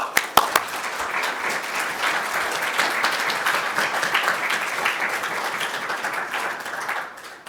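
An audience applauds to welcome a speaker at a university lecture at Emory, steady dense clapping filling the room for several seconds before fading out.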